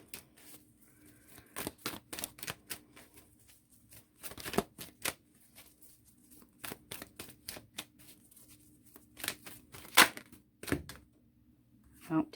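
Tarot cards shuffled at close range, sharp papery snaps and riffles in irregular clusters with quiet gaps, one louder slap standing out near the end.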